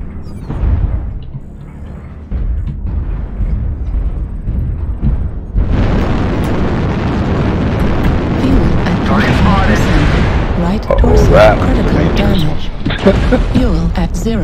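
Missile explosions in the MechWarrior Online video game, heard as a dense barrage of booms and bursts that swells loud after a quieter start and continues steadily under in-game voice alerts.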